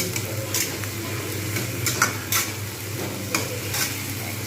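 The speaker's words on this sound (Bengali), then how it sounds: "এবার এগুলো কিন্তু খুব ভালো করে কষব" Spices with salt, turmeric and chilli powder sautéing in a pan for a matar dal bora curry: a constant sizzle with repeated stirring scrapes and occasional sharp clinks of the spoon, close and without speech.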